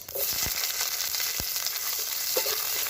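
Chopped onions and cumin sizzle in the oil left from frying fish, a continuous close frying hiss broken by a few knocks of a spoon stirring the pan.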